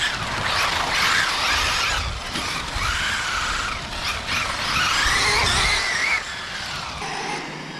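A Traxxas RC street truck, lowered and built for on-road driving, rips across the smooth concrete of a parking garage, its motor whining loudly and tires squealing as it skids through turns, with no talking.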